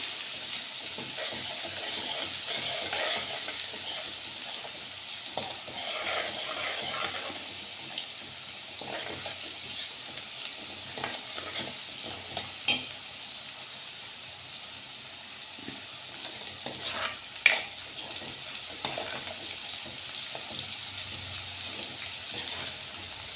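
Sev tameta curry sautéing in a pan in a Kathiyawadi-style kitchen, giving a steady soft sizzle with light stirring clicks and a few sharper scrapes, moderately close and continuous throughout with no talk.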